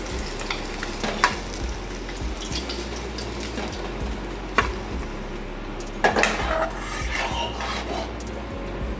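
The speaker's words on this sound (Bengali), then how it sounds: "মাছগুলো আমার ভাজা হয়ে গেছে। মাছগুলো আমি তুলে দিচ্ছি।" Rohu fish pieces being lifted out of hot oil in a pan, with a steady close sizzle and frying hiss, broken by a few light clinks of a utensil against the pan.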